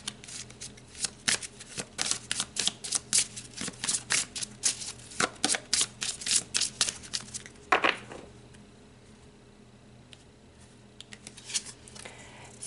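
A tarot deck riffled and shuffled for a reading, a rapid run of crisp card-flutter bursts up close, then a pause with faint handling at the end.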